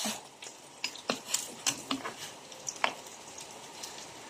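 Food sizzles in a hot pan, with scattered crackles, pops and occasional light clinks of a utensil against the pan, while sautéing aromatics for chicken tinola.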